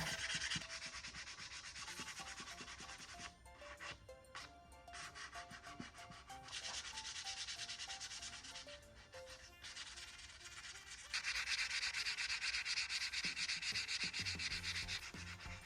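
Continuous abrasive sanding on wood, rough scraping strokes in steady back-and-forth bursts, close and uninterrupted by talk.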